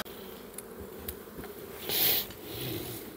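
An opened honeybee hive in spring, its colony hyperactive: a faint, steady hum of buzzing bees close by, with a few louder passes of single bees flying near.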